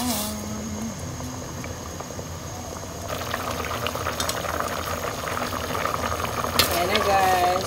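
Broth with sotanghon noodles boils hard in a pot, a steady bubbling rumble that grows busier and louder over several seconds, with a faint hum underneath.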